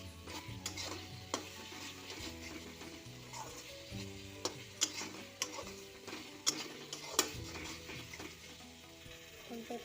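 Soybean korma masala being stir-fried in a pan, with a steady low sizzle and frequent sharp scraping and tapping strokes from stirring, fairly quiet throughout with no talking.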